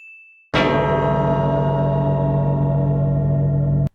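A huge old bell in the One Piece anime is struck after a thin high tone, giving a loud deep clang that rings out steadily and hums for several seconds before cutting off.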